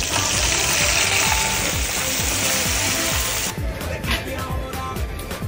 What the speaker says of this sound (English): Now we fry.